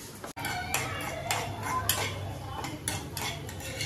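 Dry fruits roasting in a pan for vermicelli kheer, with steady metallic scraping and clinking of a spoon against the pan in repeated strokes, close and moderately loud, no speech.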